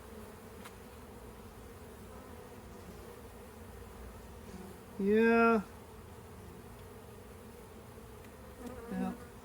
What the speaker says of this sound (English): Have some angry bees, probably.